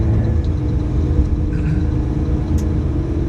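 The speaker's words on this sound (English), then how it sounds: "now I'm tipping off the load, so it may be gonna sound quite a lot here" A dump truck in Gothenburg, Sweden tips off its load, giving a steady low engine rumble with a faint mechanical whir that stays even throughout.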